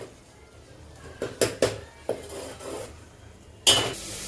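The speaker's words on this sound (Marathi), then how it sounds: "टोमॅटो पण छान असं आपण थोडंसं वाटलं तर तेल घालूया छान असं परतून घेऊया" Tomatoes sautéing in oil in a pan for pav bhaji, with a soft sizzle under several sharp clanks and scrapes of a spoon stirring against the metal pan, close by.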